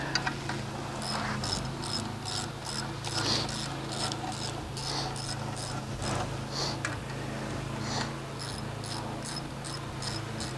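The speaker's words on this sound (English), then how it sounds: "Two-fisted speed wrench. And it works just fine." A two-fisted speed wrench is cranked steadily on a motor, producing a close, continuous run of rapid, regular ticking clicks that repeat for about ten seconds.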